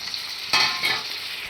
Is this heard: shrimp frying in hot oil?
yes